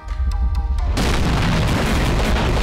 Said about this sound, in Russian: это ядерный взрыв, просто мне эффекта не видно